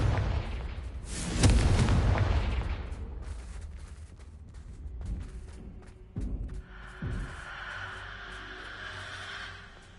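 A Confringo spell explosion in Hogwarts Legacy bursts with a loud, rumbling boom that rolls off over a couple of seconds, followed by scattered smaller thuds and a hissing magical fizz.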